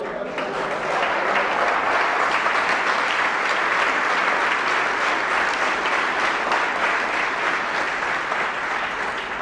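A church congregation applauds, a loud, sustained wash of clapping from many hands that holds steady for the whole stretch.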